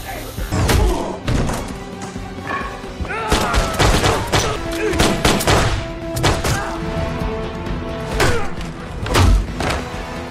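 Rapid bursts of gunfire mixed with heavy thuds and impacts, dense and loud, a chaotic action-film shootout with a voice briefly in the mix.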